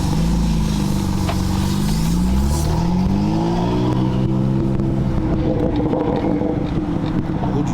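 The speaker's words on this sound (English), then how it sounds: "it's making like a weird noise on the hub." A Porsche 991.2 is driven with an odd noise coming from a wheel hub, heard as a loud, steady engine and road drone from inside the car with slowly rising and falling tones.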